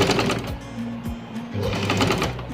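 A sewing machine runs steadily and close, stitching a round neck (gool gala) design, its fast mechanical whir continuing with a few brief slowdowns.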